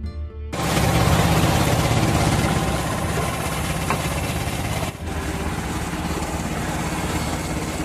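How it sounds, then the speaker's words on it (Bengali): An engine starts after the rain at an eco park near Kolkata, kicking in abruptly and settling into a loud, steady rumbling idle that runs continuously with a brief dip midway. "বৃষ্টি কমতেই শুরু হলো ইঞ্জিন"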